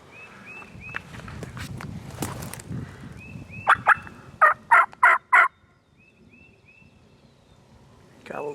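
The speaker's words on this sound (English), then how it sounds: "Gobbled again, didn't he?" A wild turkey gobbles during a Michigan spring hunt, a burst of four loud, rapid gobbles at mid-distance in the woods, preceded by earlier faint calls, footsteps and rustling through leaves.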